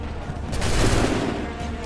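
A massed musket volley in Assassin's Creed 3 breaks out as a loud, dense crackling burst of many shots blurring together and then trailing off into a rumbling echo.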